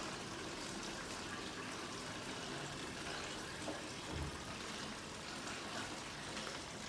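Hydrogen peroxide pours from a barrel into a container, a steady broadband liquid rush that runs continuously and evenly at moderate level with no talk over it.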